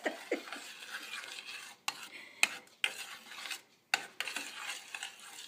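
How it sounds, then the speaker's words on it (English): Butter melts in a pan while being stirred for an Assyrian kadeh pie: repeated scraping and clinking of a utensil over a soft, steady sizzle, fairly quiet and without speech. "Now the butter start melting."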